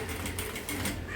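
Sewing machine stitching the shoulder seam of a dress top, a close, continuous mechanical clatter with a steady rhythmic ticking throughout the short stretch.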